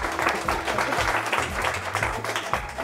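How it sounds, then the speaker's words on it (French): Brief, fairly dense studio audience applause on a quiz show after a correct answer, with a voice speaking underneath the clapping. "On peut les applaudir très fort"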